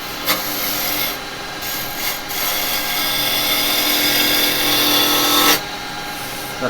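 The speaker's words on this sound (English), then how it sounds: "So I'm just going to rough it down with that." A wood blank being roughed down on a lathe with a turning tool: a loud, steady rasping scrape that runs continuously, briefly drops out a couple of times, then stops near the end.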